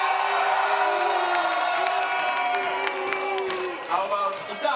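A crowd at a European Rubik's Cube championship cheers and whoops for France before the France–Italy match, a loud, sustained mix of shouting and applause that tapers off near the end.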